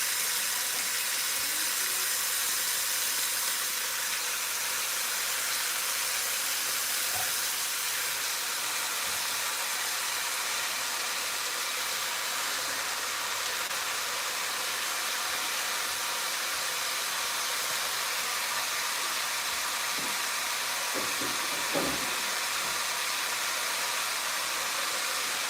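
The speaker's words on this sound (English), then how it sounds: "That means our meat is searing, developing lots of flavor." Meat searing in a hot pan gives a loud, constant broadband sizzle that holds steady and close throughout, with only faint clinks near the end.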